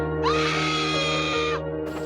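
A harsh, sustained scream with rising then falling pitch, loud and close for about a second and a half, in an animated Roblox story about the Half Engine; it sounds like a voiced character wail, with no talking.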